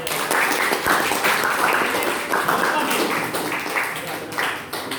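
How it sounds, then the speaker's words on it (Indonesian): An audience claps in sustained applause at a company presentation, a dense steady patter of hands lasting several seconds, with voices speaking over it. "Kasih aplaus lah."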